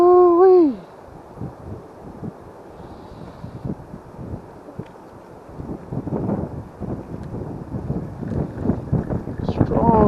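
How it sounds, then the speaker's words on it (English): Strong gusts of wind buffet a fishing boat on a cold, windy day, a low rumbling roar against the microphone that builds and grows louder toward the end, after a brief vocal exclamation at the start. "gust of wind."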